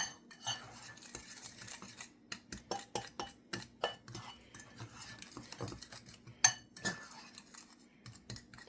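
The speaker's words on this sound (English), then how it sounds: "And I stir it together with a fork" A fork scrapes and clinks against a bowl, stirring baking powder into dry gluten-free pancake mix in quick irregular strokes, close and fairly quiet.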